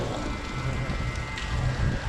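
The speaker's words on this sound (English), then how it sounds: "Still is a little bit of rain, a little bit of drizzle, that sunny drizzle." Light drizzle falls outside a mall in Cardiff, a steady close patter of raindrops on wet surfaces that continues evenly with no speech.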